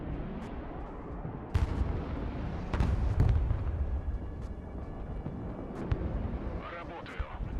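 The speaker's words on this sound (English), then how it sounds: "Artillery." Artillery fire in the video game Broken Arrow, a few distant booms and cracks over a steady rumbling battlefield bed, moderately loud, with voices talking in the background.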